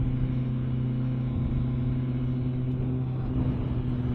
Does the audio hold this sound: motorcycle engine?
yes